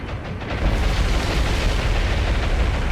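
Bombs striking a warship in the naval combat game War on the Sea, a heavy rumbling blast that swells up and rolls on as a dense, loud, continuous roar without any talk.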